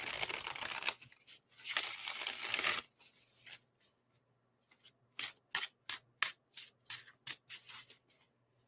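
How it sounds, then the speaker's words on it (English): Tarot cards are shuffled up close: a long riffling rush, then a run of quick, evenly spaced snaps as the deck is bridged and tapped. "One more shuffle."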